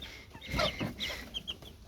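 Chicken chicks chirp and cluck in a quick scatter of short, high calls over a couple of seconds, close by and fairly quiet, with no voices over them.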